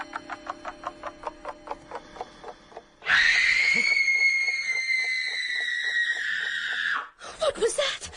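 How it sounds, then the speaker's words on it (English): A woman lets out a long, loud, wavering scream in a BBC radio drama adaptation of a Gladys Mitchell mystery, following a run of rhythmic ticking; a brief sharp sound comes after. "What was that? Scream."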